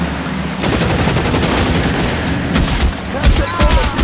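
Heavy gunfire in the video game L.A. Noire, with rapid overlapping shots and booms in a loud, continuous fusillade, a voice shouting briefly amid the barrage.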